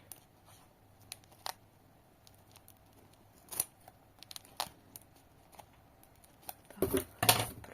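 Quiet, sharp snips of poor-quality scissors cutting open a parcel come in scattered single cuts, building to a quick cluster of louder snips near the end.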